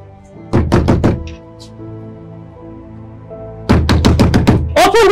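Someone pounds on a door in a tense Nigerian Nollywood drama scene: two loud bursts of rapid, heavy knocks separated by a few seconds of quiet room tone.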